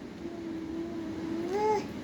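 A small child imitates a cat's meow, giving one rising-and-falling mew at close range near the end, after a quiet stretch with faint background hum.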